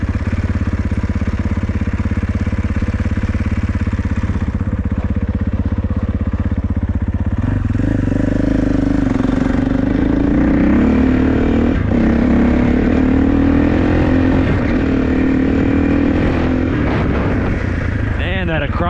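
A 2021 KTM 450 SXF Factory Edition dirt bike with an Akrapovic exhaust runs loud and close the whole time, idling low at first, then rising into a higher, steady engine drone during the first ride and break-in.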